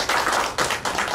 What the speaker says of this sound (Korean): 잠깐 우리 환영 박수 한번 드릴까요?